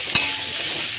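Carrots and beans sautéing in a pan for vegetable wheat rava upma, a steady close sizzle with two short bright stirring scrapes, one at the start and one at the end.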